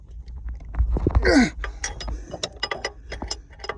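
Wrench clicking and ratcheting as bolts are snugged down tight on a 1000 hp Cummins engine, a run of short metallic clicks and clanks close by, with a brief louder scrape early on and no talking.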